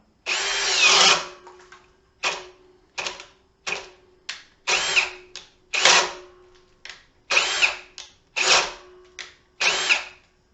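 A Ryobi drill on speed 2 boring with a 1 1/2 inch spade bit whirs in about a dozen short, loud bursts, each stopping abruptly as the bit bogs down, with quiet gaps between.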